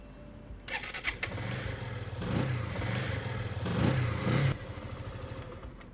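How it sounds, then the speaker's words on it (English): After a cranking clatter, a motorcycle engine fires up and revs twice before settling into a steady, throbbing idle nearby. "Now, start the engine and run it on idle speed for 3 minutes."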